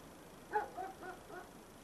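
A dog yips or whimpers several times in quick succession, short faint high-pitched calls heard at a moderate distance over a quiet background.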